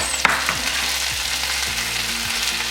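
Bell pepper and tomatoes frying in a pan give off a steady, loud crackling sizzle up close, with a few soft stirring scrapes and a light clink near the start, and no voices.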